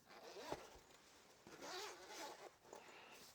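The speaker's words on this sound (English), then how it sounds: "Unzip it," Zipper on a labeled Uni-T multimeter pouch being pulled open, with several short close rasping zips in quick succession, quiet and alone.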